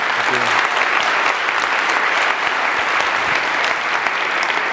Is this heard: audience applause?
yes